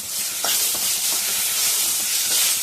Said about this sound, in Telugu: పుదీనా ఆకులు ఫ్రై అయిపోయాయి ఇప్పుడు ఇందులో టమాటో ముక్కలు టమాటో ముక్కలు వేసుకొని